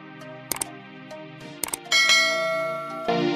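A bright bell-like notification chime rings out in a few quick metallic dings, then sustains into a shimmering tone, loud and clear with no talking.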